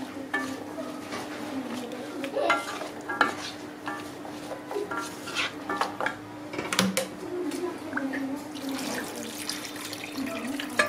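Food in a pot is stirred, with scattered utensil scrapes and clinks over a low sizzle and running water, and brief bits of voice now and then.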